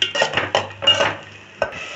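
Ground tomato paste sautéed with onions in a pan for a vathal kulambu, a spoon scraping and stirring in quick strokes with faint sizzling, close and clear, no voices.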